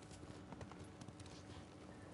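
A horse gallops in Ghost of Tsushima, with a fast, steady patter of hoofbeats that is faint and muffled and sits among a blur of wind and ambient game sound.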